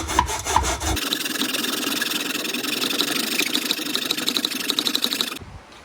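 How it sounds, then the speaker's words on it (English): A hacksaw with a metal-cutting blade cuts metal in a miter box, giving close, loud, rhythmic rasping strokes in a fast steady back-and-forth that stops abruptly near the end. "all I used to do that was just a hacksaw with a metal cutting blade and a miter box"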